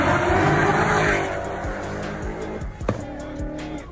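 Modified street car exhaust, not straight piped, heard as a revving engine roar that fades into a lower rumble with sharp pops and transients, fairly close.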